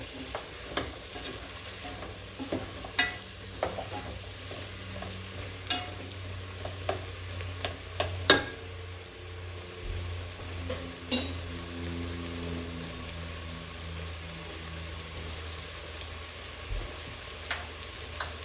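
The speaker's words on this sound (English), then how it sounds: "right now I'm just going to add 1 tablespoon of margarine. That's hot right there." Margarine melting and sizzling in a hot pan before curry spices go in for a lentil coconut stew, a steady low frying hiss broken by scattered small pops and stirring clicks, fairly quiet and with no talk.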